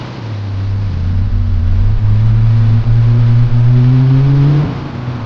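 A Ferrari F40's engine, restored after years of neglect, revs up in one long rising pull, loud and close with the pitch climbing steadily before cutting off sharply near the end.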